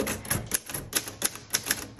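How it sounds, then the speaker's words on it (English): A 1950 Royal Quiet Deluxe manual typewriter is typed on at a steady, brisk pace, each key striking with a crisp, close clack in an uneven rhythm. "I happen to be a huge fan of the Royal Quiet Deluxe. I have four of them and um, I love typing on them."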